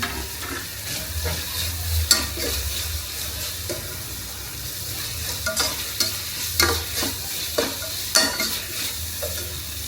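Tomato is added to biryani masala frying in a pan, giving a loud, steady sizzle with rhythmic scraping strokes of stirring and a low hum underneath.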